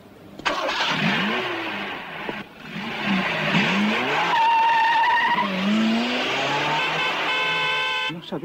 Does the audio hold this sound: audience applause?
no